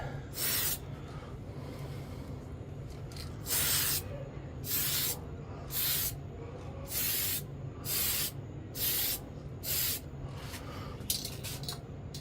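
Short hissing bursts of spray paint misted onto a slot car body, about eight separate sprays of a second or less each with brief pauses between, close and fairly quiet.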